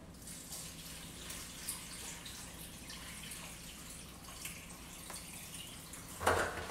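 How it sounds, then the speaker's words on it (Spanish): Water is poured into a cooking pot holding chiles, a steady faint trickling and splashing under room noise, with a brief louder splash near the end. "Vamos a echarle agüita."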